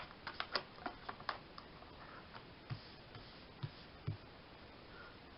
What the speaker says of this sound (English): The cards just must want a bit more shuffling.